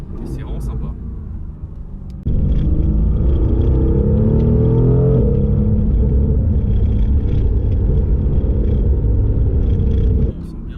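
A 585-horsepower Mercedes-AMG GT R engine suddenly swells into a loud, steady, deep roar with rising tones, holds for about eight seconds under acceleration, then drops back to a quieter hum.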